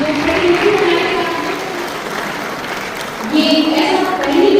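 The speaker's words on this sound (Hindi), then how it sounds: "आप सभी की तालियां आ जाए" Audience applause at a Rotary Club Lucknow founding-day function in Lucknow, a steady wash of clapping throughout that swells near the end, with some voices mixed in.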